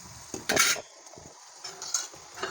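A metal lid is set onto a cooking pot of spiced tomato, soaked pea and boiled potato curry, making a few close clinks and clatters of metal on metal in a quiet kitchen.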